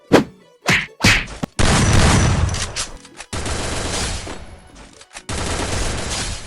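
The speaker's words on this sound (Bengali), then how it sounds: "এই তো ওরা গুলি দিয়ে ফাইট করছে" Video game gunfire erupts in a firefight: a few sharp single shots, then loud sustained bursts of rapid fire separated by brief pauses, close and dominant.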